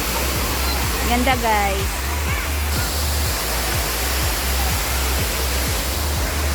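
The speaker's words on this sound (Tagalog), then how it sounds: "ang ganda ng lagaslas ng tubig" Waterfall at Bato Springs, a steady broadband rush of falling water filling the whole clip, loud and continuous, with brief voices speaking over it near the start.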